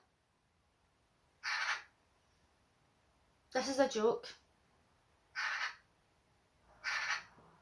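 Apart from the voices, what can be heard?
bird calling outside window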